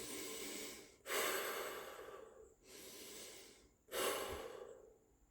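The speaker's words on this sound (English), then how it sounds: "Breathe in and breathe out, with not much of a hesitation in between." Slow, deep breaths drawn in and let out close to the mic, about two full cycles of soft airy inhales and exhales with little pause between them during a mindfulness exercise.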